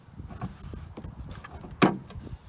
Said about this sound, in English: Gently push it in and you'll hear it all just pop in nicely.